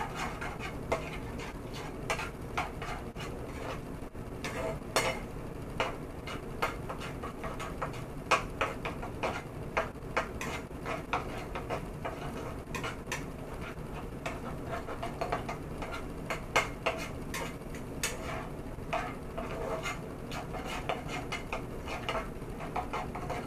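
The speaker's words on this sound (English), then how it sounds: "And then just go ahead and stir that in there. Mix it all around." A utensil stirs a tuna sandwich filling in a bowl, making steady rapid clicks and scrapes, close and moderately quiet, with no talking.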